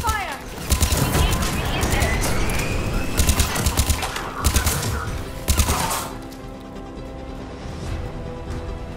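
Mass Effect 3 Remastered on Xbox Series S: rapid bursts of automatic gunfire crackle in clustered volleys, some close and loud, fading into a mechanical hum, with spoken voices mixed in.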